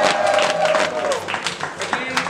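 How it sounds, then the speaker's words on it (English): A crowd at a tasting event breaks into mid-level applause, mixed with cheering and chatter, a sustained shout at the start and claps continuing under the voices. "let's give a round of applause for the PhDs who's doing the HIV testing at this moment"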